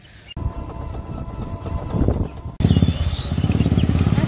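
A train at Dhubulia railway station starts as a rising rumble, then switches to a loud, close, rhythmic clatter of wheels over the rails.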